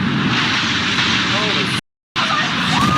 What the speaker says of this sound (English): What's this other jet doing?